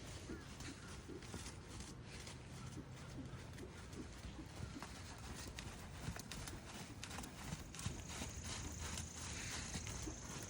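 Hooves of a horse cantering on the lunge line at a farm, a faint, distant rhythmic thudding running through the recording under quiet ambient noise.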